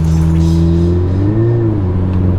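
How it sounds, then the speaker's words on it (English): A Mk5 VW Golf GTI Edition 30 accelerates with a slipping clutch, its engine drone holding loud and steady while the pitch wavers and climbs briefly without a matching surge, close up from inside the car. "I thought I'd just get one last clutch slip out the way"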